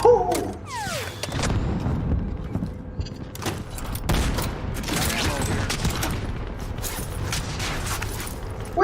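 Incoming artillery rounds in a Call of Duty video game, a series of heavy booms and rumbling impacts across the whole stretch with creaking mechanical noises, fairly loud and continuous.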